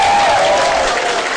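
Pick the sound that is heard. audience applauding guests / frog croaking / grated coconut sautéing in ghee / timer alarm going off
audience applauding guests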